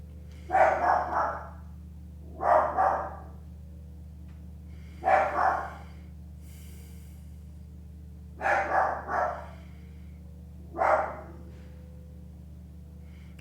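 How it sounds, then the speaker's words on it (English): A feisty dog barks in five short bursts, fairly close and loud, with quiet pauses between them over a steady low hum. "That's why he's barking."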